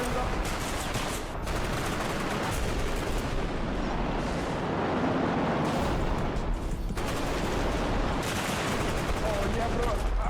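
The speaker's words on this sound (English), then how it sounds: "I'm talking about a full rework with gunshots." Rapid bursts of gunfire from a realistic body-cam style shooter video game crackle loudly and continuously, with dense overlapping shots and brief lulls.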